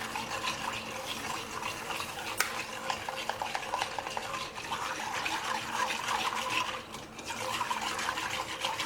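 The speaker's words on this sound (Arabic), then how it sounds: "غادي نكب الخليط هكا اون ميم طون كنخلط بالفوي" A whisk stirs a caramel flan mixture while it is poured, sounding as rapid metallic scraping and liquid swishing against a bowl, close and steady, with a louder clink partway through.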